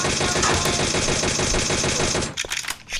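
Rapid automatic gunfire in a bike rider video game, a dense steady rattle of shots lasting a couple of seconds before breaking into a few scattered bursts and quieter game sounds.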